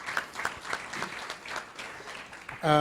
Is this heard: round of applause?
yes